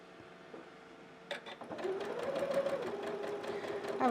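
A sewing machine stitches a quilt block for a snowman winter-hat quilt, starting after a quiet moment and then running in a steady, close, mechanical whirr.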